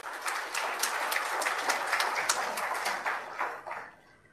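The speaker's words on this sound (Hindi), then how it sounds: "तालियों की करतल ध्वनि समाप्त नहीं होनी चाहिए।" An audience at an Indian railways ceremony honouring Tokyo Olympics medal winners applauds the Rail Minister with steady, dense clapping that holds for about four seconds and then fades.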